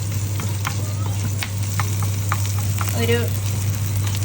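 Ginger sautéing in a pan for a Kerala-style thoran, a steady frying sizzle with light stirring clinks running throughout under a constant low hum, with a brief word spoken once.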